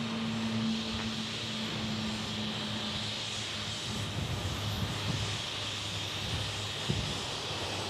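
A King Air turboprop takes off at Dallas Love Field, giving a steady droning engine and propeller roar with a low hum, held at moderate distance over a constant hiss throughout.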